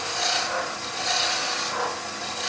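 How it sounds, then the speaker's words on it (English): Beading and parting tool cutting wood on a lathe, a steady, dense scraping rasp with slight swells in intensity, close and continuous, no talk. "This is your beading and parting tool."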